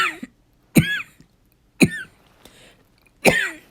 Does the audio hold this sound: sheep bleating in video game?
no